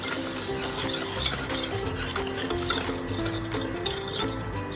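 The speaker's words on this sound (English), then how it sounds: "I have added the brown sugar and butter, so let's mix it very well until the sugar is melted" Brown sugar and butter are stirred together in a pan as they melt, with a soft sizzle under repeated scraping and clinking of a spoon against the metal, heard up close.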